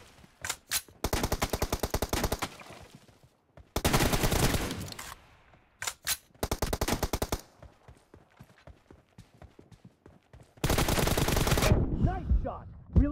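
Rapid automatic gunfire in a mobile shooter team deathmatch played on an iPad mini 5, loud bursts repeated in several long volleys with short single shots and pauses between them.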